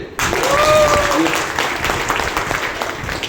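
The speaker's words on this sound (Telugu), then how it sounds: "మీరు రెడీ అంటే క్లాప్స్ కొడితే" A seminar audience applauds together after being urged on, a dense wash of clapping that swells at the start and then settles into a steady, slightly thinner patter, with a voice briefly audible over it early on.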